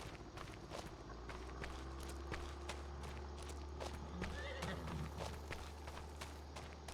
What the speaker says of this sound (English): We got some horses.